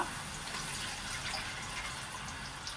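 Water poured into a pan of soya manchurian gravy with cashews, a steady splashing fill lasting a few seconds, close and even, with no talking.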